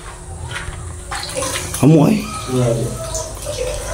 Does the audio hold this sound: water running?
yes